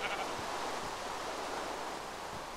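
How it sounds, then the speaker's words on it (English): Sheep bleating in the Minecraft video game, a soft, distant bleat rising briefly out of a steady wash of ambient noise, with no talking. "More sheep, no pigs though."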